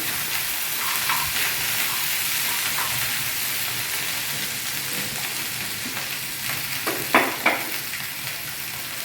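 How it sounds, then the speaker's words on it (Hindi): Steady crackling sizzle of ginger and garlic frying in a hot pan, with a few brief clinks of stirring near the end; no talking. "अदरक लहसुन कच्चापन जाने तक अच्छा पका लेना"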